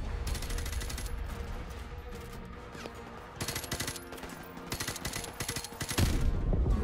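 Gunfire in the shooter game Modern Warfare Remastered, made up of rapid automatic bursts that come and go in clusters, loud and close, with a heavier blast near the end.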